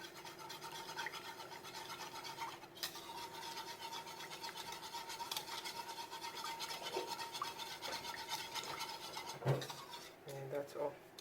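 A cornstarch mixture is stirred in a bowl with a steady, faint scraping and rubbing, a utensil occasionally clinking against the side near the end.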